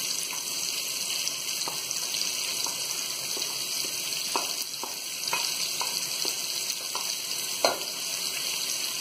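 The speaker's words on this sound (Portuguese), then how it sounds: "Agora eu vou pôr aqui a cebola e o alho." Onion and garlic fry in a pan as a soft, even sizzle with scattered light clicks and taps of a utensil, steady and fairly quiet throughout.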